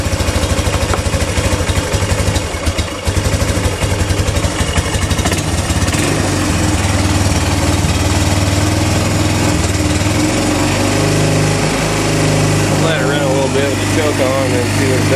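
A Yamaha Bruin 250 ATV engine idles steadily and loudly close by after a carburetor cleaning, with a voice talking over it.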